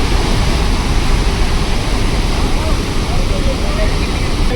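Water rushes through the Nagarjuna Sagar dam project in a loud, continuous roar that fills the clip without a break.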